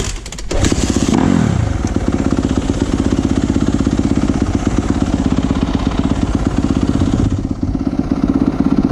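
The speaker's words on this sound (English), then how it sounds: "There it is, 2nd gear rolling burnout." Yamaha YZ250F dirt bike doing a rolling burnout in second gear, its engine revving loud and steady close by with rough rear-tire scrabble, holding for several seconds before easing off near the end.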